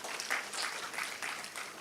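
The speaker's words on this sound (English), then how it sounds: "Please give a big round of applause for our panelists." A conference audience applauds as panelists are welcomed onto the stage, a brief, full burst of many hands clapping with a slightly uneven swell over about two seconds.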